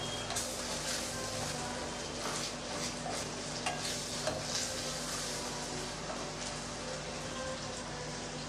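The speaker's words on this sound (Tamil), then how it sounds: "இப்போ எல்லாத்தையும் சேர்த்து நல்லா வதக்கி விட்டுறலாம்" Rock salt and onion-tomato masala for an egg curry sautéing in a pan: a steady, close hiss with scattered soft stirring scrapes and no talking.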